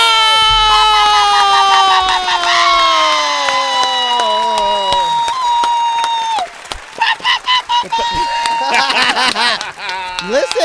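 A studio audience erupts in loud, sustained cheering and clapping, with high whoops and shouts rising over the applause, which turns choppier and more scattered toward the end.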